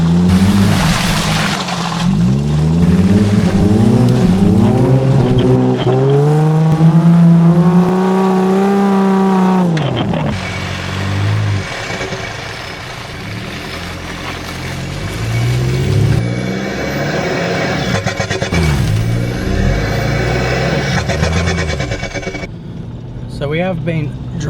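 A 4WD vehicle grinds along a forest trail in Sunny Corner State Forest, its engine loud and close, rising and falling in pitch as it climbs, shifts and slows over rough ground, with steady drive noise throughout.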